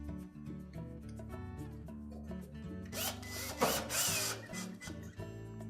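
A power driver runs screws in to secure a panel on a Frigidaire range during a temperature probe replacement, giving a whirring, ratcheting mechanical drone with a louder burst near the end.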